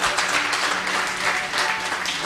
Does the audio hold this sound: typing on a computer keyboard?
no